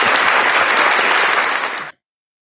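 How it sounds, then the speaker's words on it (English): Canned applause from a noise box, a loud burst of crowd clapping and cheering that holds steady for about two seconds and then cuts off abruptly into silence. "I'll take a big old round of applause."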